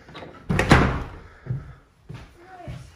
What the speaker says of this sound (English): I'll close these doors so that the cats can't get into these attic rooms.